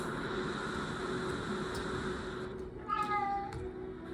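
A cat creature in the No Man's Sky video game gives a single short rising meow near the end, heard over a steady low game-ambience hum.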